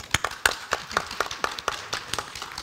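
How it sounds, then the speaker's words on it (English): A few people clap at a food value chain panel discussion, sparse distinct hand claps in a loose, uneven rhythm, roughly ten sharp slaps rather than a full ovation, fairly close. "let's give everybody a round of applause"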